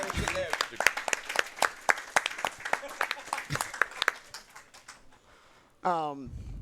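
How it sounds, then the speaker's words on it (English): A small group claps briefly, a few seconds of scattered applause that fades out, followed by a short burst of other sound. "Should we clap for that?"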